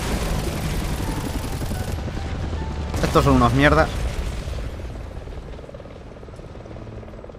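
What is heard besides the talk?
helicopters approaching in the video game Resident Evil 6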